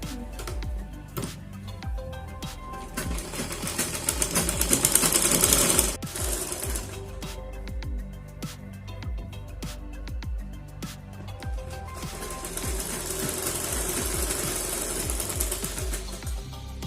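An electric sewing machine runs seam stitching along blouse fabric in a steady, rapid mechanical whir, briefly swelling louder, pausing, then resuming at a close, even pace with no talk.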